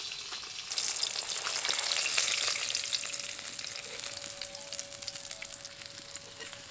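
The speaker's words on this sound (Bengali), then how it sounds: "এইভাবে বাকি মাছগুলো ভেজে নেব। আর এখানে পমফ্রেট মাছ কিন্তু খুব বেশি কড়া করে ভাজবো না।" Pomfret fish fry in oil in a pan, a dense, moderately loud sizzle with fine crackling pops that swells early and then settles into a steady hiss, with a faint thin tone running underneath.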